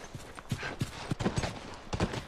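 Horse hooves clip-clop at a steady trotting pace in the video game The Last of Us, a run of close, regular thuds with no talk over them.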